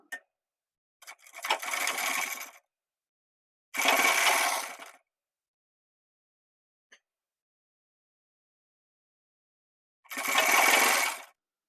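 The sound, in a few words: sewing machine stitching a shirt's folded margin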